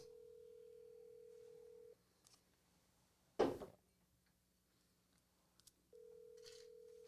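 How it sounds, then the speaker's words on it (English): A telephone rings unanswered, a steady electronic tone that stops, leaves a pause broken by a single sharp knock, then starts again, close and clear with no voices. "Does nobody want to pick up the phone?"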